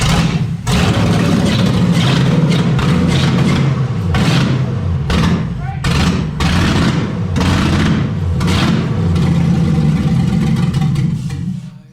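A loud LS-swapped engine runs close up, roaring and revving with uneven surges and brief dips, alone with no talk.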